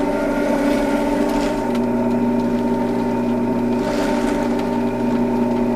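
A motorized drum carder carding wool gives a steady, loud mechanical hum with a droning pitch and a faint whirring rush, running continuously up close with no talk.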